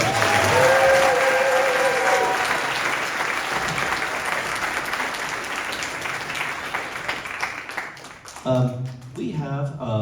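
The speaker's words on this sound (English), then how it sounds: "Another round of applause for our co-boys." An audience applauds at a school winter orchestra concert, a steady wash of clapping from many hands that fades out, before a speaker's amplified voice begins near the end.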